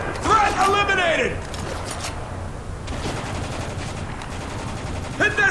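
Gunfire from a bolt-action sniper rifle in the video game Spec Ops: The Line, several sharp cracks and mechanical clacks scattered through the clip, mixed with shouting voices at start and end.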